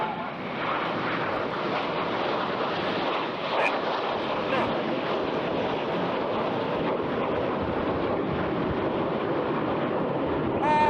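Red Arrows jets flying the rollbacks manoeuvre at the Eastbourne Airshow, a steady, broad roar of jet engines holding at constant loudness throughout, with a commentator's voice running underneath.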